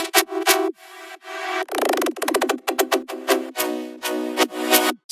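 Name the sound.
synth lead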